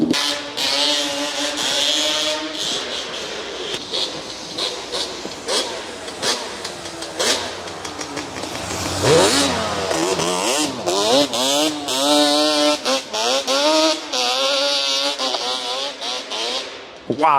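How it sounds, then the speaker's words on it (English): A Yamaha motorcycle revving hard on an icy surface, its engine climbing and falling loudly up close with rapid popping in between, while people talk over it in places. "it made that popping noise like the factory bikes"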